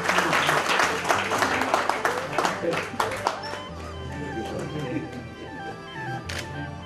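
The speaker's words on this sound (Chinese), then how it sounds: "好，让我们以掌声送给潘国基教授、" An audience at the opening ceremony of an ink painting exhibition claps loudly for several seconds, the applause thinning and fading while music plays and a speaker talks underneath.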